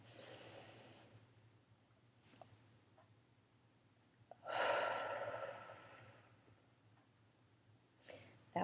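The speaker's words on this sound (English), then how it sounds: "I do inhale for 6, hold for 2, and exhale for 8." Slow paced breathing exercise: a quiet, close inhale, then a long audible exhale that swells and fades over several seconds, with soft breaths around it and no talk.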